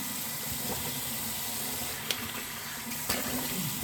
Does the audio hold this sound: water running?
yes